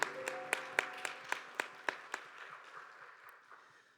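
A church youth congregation clapping in unison during a Sunday service, about ten distinct claps in a steady rhythm, fading and thinning out at the end, fairly quiet and with no talking.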